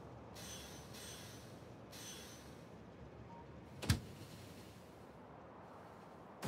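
Trains rolling through a rail network in the factory-building game Factorio, with low rumbling wheel noise, two hissing bursts early on, and sharp clanks near four seconds and at the very end.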